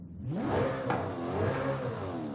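A stock Alfa Romeo 155 engine in Forza Horizon 5 revs up sharply, its pitch climbing, dipping, then rising again in a short burst of loud acceleration.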